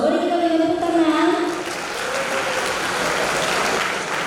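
An audience at a university convocation ceremony breaks into full applause after a solo violin performance; sustained tones fade in the first moments as the clapping swells and holds steady.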